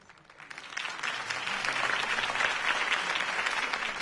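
Crowd applause swells in Batman: The Telltale Series after Harvey Dent's campaign speech, a dense, steady roar of many clapping hands that builds in the first second and holds loud throughout.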